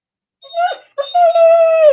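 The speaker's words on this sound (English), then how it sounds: "Oh, that's my dog." A dog whimpers and moans nearby in a high, drawn-out whine with a short break before a longer rising cry, loud and close in an otherwise quiet room.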